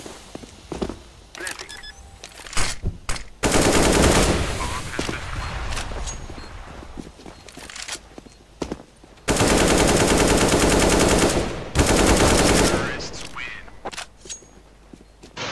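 AK rifle fire in a Counter-Strike match: scattered single shots, then two long, loud bursts of rapid automatic fire with brief pauses and quieter game noise between.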